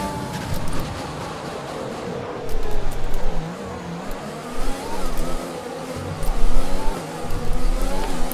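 An F1 race car engine in the F1 2020 video game, racing at Abu Dhabi, screams steadily as it accelerates down a straight, a loud continuous high whine with surging swells and no voices.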